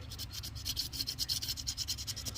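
A razor blade scrapes a surface on an old Ford F150 during a 6.0 Powerstroke engine swap, giving steady, rhythmic rasping strokes repeated rapidly and close, with no talking.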